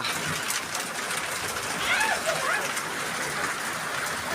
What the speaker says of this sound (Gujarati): વરસાદ વધતો જાય છે